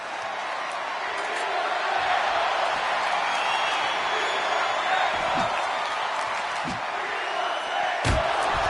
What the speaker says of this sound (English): And the crowd here in Liverpool wanting tables